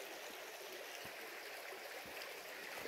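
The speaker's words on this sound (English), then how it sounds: "the water's running here." A mountain stream near Highlands, North Carolina runs in a constant, soft rushing wash of water, steady and unbroken, heard alone at moderate distance.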